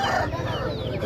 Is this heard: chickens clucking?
yes